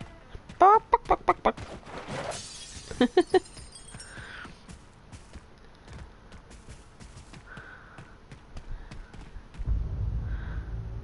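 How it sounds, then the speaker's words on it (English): A chicken clucks in the Knack video game, giving rapid bursts of clucks near the start followed by sparse game effects and footsteps, with a low rumble rising at the end. "Ah, chicken."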